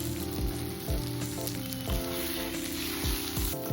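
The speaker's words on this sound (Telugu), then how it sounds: "ఇప్పుడు ఒక కప్పు రవ్వ వేసి వేయించుకోవాలి." Semolina (rava) roasting in a cooking pan gives a steady soft sizzle, with quiet scraping stirs at intervals and no talk.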